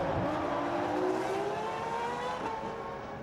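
Formula 1 race cars from the 1999 season duelling through an overtaking move, a loud, close engine drone with rising and falling pitch that carries steadily throughout.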